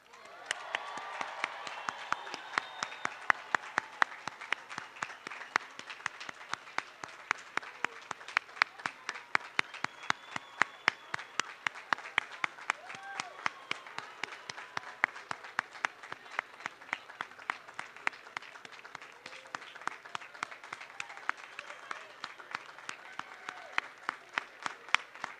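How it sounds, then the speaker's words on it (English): Sustained applause from a large commencement crowd honoring a graduating class, dense steady clapping with a few faint cheers mixed in, holding loud and even for the whole stretch. "let's have one more round of applause for the class of 2022"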